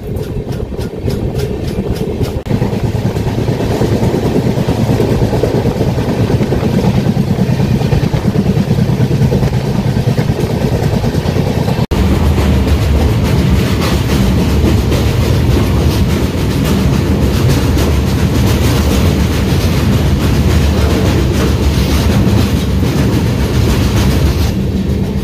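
Garib Rath Express, the 12518 Guwahati–Kolkata service with new LHB coaches, runs steadily along the rails with a loud continuous rumble and rhythmic clickety-clack of wheels over joints, heard close from inside the train with no talking.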